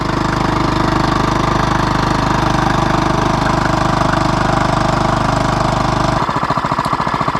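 A Honda 2.3 hp gas outboard motor idles in neutral on a small boat, a loud, steady, close engine drone with a rapid even chug that turns rougher near the end.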